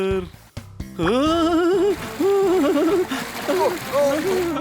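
Water splashes and gurgles in a cartoon scene where a new dress gets soaked, loud and close, with animated voices talking over it.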